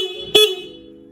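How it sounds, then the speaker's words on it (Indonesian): A single short beep from the stock horn of a Honda Vario motorcycle, close and bright, with a faint steady hum before and after it. "Nah ini untuk suara klakson ori Honda Vario ya."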